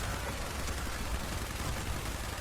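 Gunfire in Fallout 76 combat: dense, continuous rattling shots form a rough, unbroken barrage at moderate level with no clear pauses.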